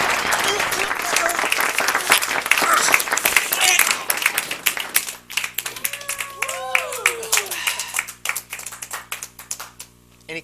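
Audience at a variety entertainment show claps steadily and loudly at first, the applause thinning into sparser claps while someone speaks and odd sliding tonal sounds rise over it.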